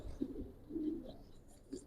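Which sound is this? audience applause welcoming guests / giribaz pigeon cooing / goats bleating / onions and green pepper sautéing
giribaz pigeon cooing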